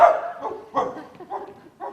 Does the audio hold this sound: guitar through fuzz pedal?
no